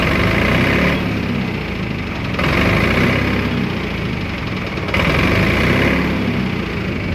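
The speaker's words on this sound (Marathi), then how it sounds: "ट्रॅक्टरचा आवाज जर ऐकायचा असेल तुम्हाला तर या प्रकारे मिळून जाईल." An Eicher 251 Mini 4x2 tractor engine running steadily nearby, a continuous buzzing drone that rises and dips in level a few times, with no talk.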